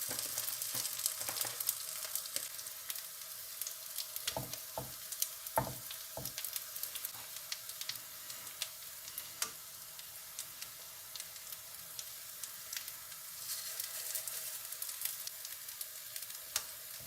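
Lentil patties frying slowly in olive oil in a pan over low-medium heat, a soft continuous sizzle with scattered pops and occasional scraping or clinks of a utensil.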